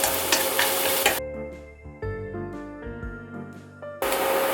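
Shallots, garlic and dried shrimp stir-fry over low heat, a close sizzle with stirring scrapes that cuts out in the middle, where bright sustained musical tones play, before the sizzle returns.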